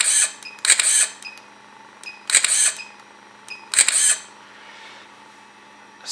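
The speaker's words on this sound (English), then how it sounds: "This is your shutter button." Three sharp double clicks of a camera shutter, each a crisp mechanical snap, spaced about one and a half seconds apart in an otherwise quiet room.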